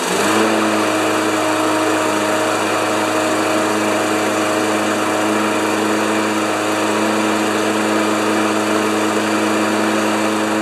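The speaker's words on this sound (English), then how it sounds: "So I'm just going to give her a little tug." Briggs & Stratton 6 HP engine on a Craftsman lawn mower running steadily and loudly at close range, a constant buzzing engine drone with no change in pitch and no talking.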